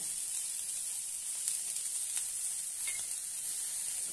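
Green peas masala sautéing in a pan, with chaat masala just added, giving a steady, fairly quiet high sizzle and hiss that runs unbroken throughout, with a few faint stirring scrapes and no talking.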